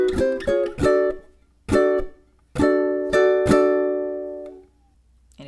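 Ukulele strumming the first two measures of a song in a swung rhythm: a handful of bright, ringing chords with sharp attacks and pauses between them, close and clear with no talking.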